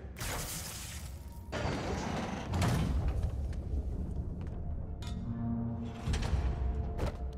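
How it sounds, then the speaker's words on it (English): A heavy trap door grinds and slides open in a Spider-Man video game, with rumbling scrapes and mechanical clunks at close range over a low background hum. "Trap door."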